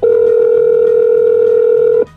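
A single steady electronic telephone tone sounds loud and close for about two seconds on an outgoing call, then cuts off.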